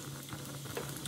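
Eggplant pieces frying in hot oil with garlic and hing in a pan, a dense steady sizzle and crackle with small pops, close and even throughout.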